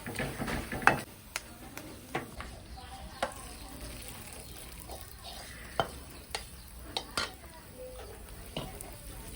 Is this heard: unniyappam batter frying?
yes